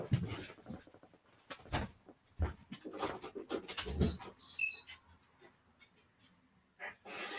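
A dog makes panting and snuffling sounds close by, mixed with scattered knocks and rustles.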